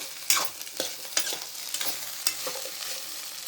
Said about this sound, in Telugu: ఇక్కడ లో ఫ్లేమ్ పెట్టాను కాబట్టి అడుగంటలేదు, మంచిగా ఫ్రై అవుతుంది